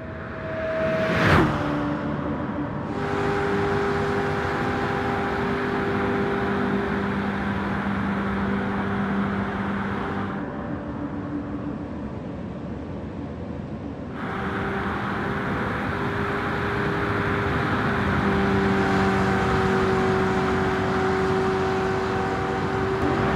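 In Gran Turismo 7, a Nissan Silvia with an LS7 engine swap accelerates toward top speed. A loud, sustained engine roar climbs steadily, and the pitch drops at a few gear shifts. A brief whoosh comes near the start.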